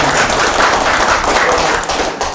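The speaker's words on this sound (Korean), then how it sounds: "큰 박수 부탁드립니다" Audience applause at a local development forum, a dense, continuous wash of many hands clapping in a hall, loud and steady throughout the short stretch with no talk.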